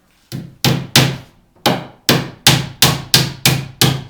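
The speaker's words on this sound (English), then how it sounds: "I'll tack a nail in right on that mark." A hammer drives a nail into a wooden board while building storage lockers: about nine sharp, close blows, a single strike followed by a steady, evenly spaced run of whacks, each thunk ringing briefly before the next.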